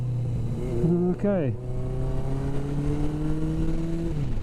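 A Yamaha XS1100 motorcycle engine with a rebuilt, previously sticky dry clutch, off throttle with the clutch in while downshifting: a steady close engine drone dips and the pitch sweeps as the gear changes, then settles into a new steady tone; someone briefly speaks.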